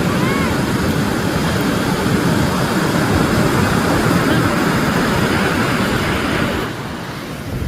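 Ocean surf breaks and rushes continuously on a beach in La Union, a loud broad wash of white noise close to the microphone, with faint voices here and there.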